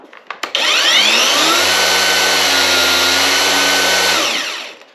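An Anbull 1000W cordless electric rebar cutter cuts half-inch rebar, giving a loud, steady motor whine for about four seconds after a few quick clicks, then winding down to quiet.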